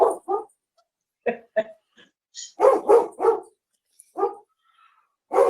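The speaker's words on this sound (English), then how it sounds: "Who let the dog out?" A dog barks in a string of sharp, close barks with brief gaps and a small whimper between them, sounding loud inside a home during an online town board meeting, with no talk over it.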